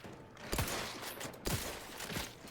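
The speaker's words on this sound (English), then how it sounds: "I'm terrible at shooting this gun." Gunfire from a gun in The Outer Worlds 2, a few sharp bursts spaced roughly a second apart, each with a short rattling tail, fairly quiet against a faint background.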